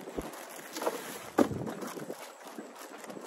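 Outdoors, wind buffets the microphone in faint, uneven low gusts, with a few soft thumps and rustles from handling in between.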